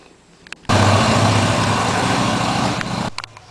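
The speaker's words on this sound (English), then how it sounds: "He rides that motorcycle." A motorcycle on a driveway bursts in close and loud, holding a steady engine roar for about two and a half seconds before dropping away abruptly.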